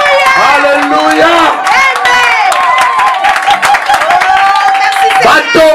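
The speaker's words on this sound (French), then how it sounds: "Acclamation pour le roi des rois." A church congregation acclaims loudly during a French-language service, with many raised voices shouting and calling out together close by and scattered claps mixed in.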